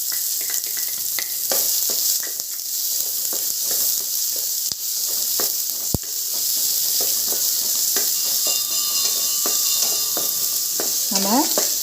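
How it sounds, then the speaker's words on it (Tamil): Onions and green chillies sautéing in hot oil in a kadai, a loud steady sizzle with occasional spoon scrapes and clinks against the pan. "வெங்காயமும் பச்சை மிளகாயும் போட்டு வதக்கிடலாம்."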